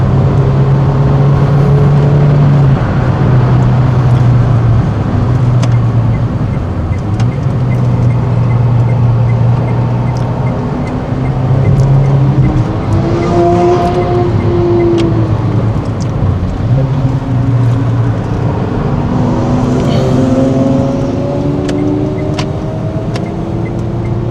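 Racing car engine in a driving video game, a loud, continuous motor drone with rising and falling pitch sweeps as the car shifts and slows, sustained throughout without talk.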